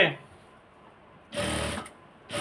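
Two short, whirring bursts from a sewing machine stitching the side seam of a salwar, following a stretch of quiet speech, with the second burst cutting in at the very end.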